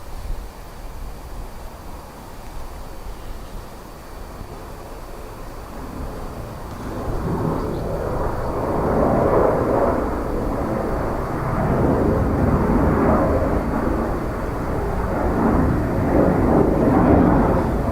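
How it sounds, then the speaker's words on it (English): A Ryanair jet from Manchester produces a low, broad engine rumble that builds gradually and stays heavy as it approaches the airport, heard alone without talk. "what you're looking at there is the Ryanair FR555 from Manchester"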